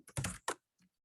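A short run of computer keyboard typing, a few quick clicks close by, then a pause and one last faint tap, with nobody talking.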